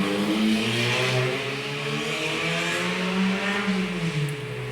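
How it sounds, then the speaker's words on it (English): A car passes close by with a steady, loud engine drone that rises and falls over a few seconds, alone with no talk. "Sorry about that car."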